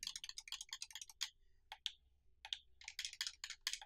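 Buttons on an Xbox Series controller click rapidly in close, crisp bursts of dry taps, with a brief pause midway, during fighting-game play.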